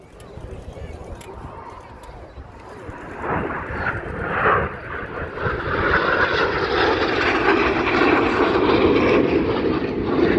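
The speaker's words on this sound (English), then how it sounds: "Red 6 and 7 coming in from the left, they'll perform a series of barrel rolls called the double rolls." Red Arrows jets fly double barrel rolls at the Midlands Air Festival, their roar building from a distant rumble to a loud, sustained wash, with an announcer talking over the noise.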